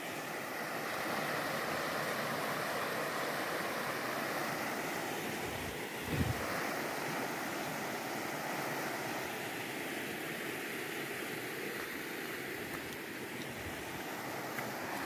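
A full, fast-flowing river in the Bahia backlands, the Rio dos Postos, gives a steady broadband rush of water with wind noise on the microphone and one brief low thump partway through.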